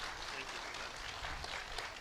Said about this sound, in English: I think we should give him a big round of applause